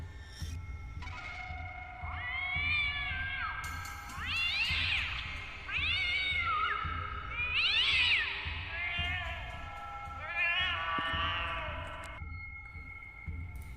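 An injured cat, run over by a motorbike, lets out a series of drawn-out, wailing meows, about six cries in a row, strained and plaintive, over a low steady hum.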